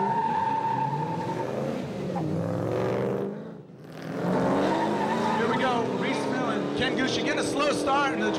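Formula Drift cars in Houston sliding through a chicane, engines roaring with intermittent tire squeal, a brief lull midway before loud engine noise returns, under a commentator's voice.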